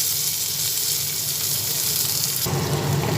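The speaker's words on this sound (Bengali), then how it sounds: "আদা রসুন দুটো একসঙ্গে ভেজে নিচ্ছি কুচানো টমেটো রেখেছি সেই টমেটো দিয়ে দিলাম" Ginger, garlic and chopped tomato fry in a pan with a steady, loud sizzle that jumps brighter and stronger when the tomato goes in.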